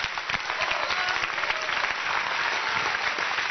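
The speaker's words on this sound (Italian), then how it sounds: "Facciamo un applauso a Rocco Siffredi." Studio audience at an Italian television comedy show applauding steadily, a dense, continuous clatter of many hands that stays loud and even throughout.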